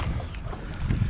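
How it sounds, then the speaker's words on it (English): Strong gusting wind buffets a sailboat picking up a mooring, a dense low roar of wind noise with rushing swells and some water sound, close and continuous. "these winds had to start gusting in just as I was coming in to pick up this mooring"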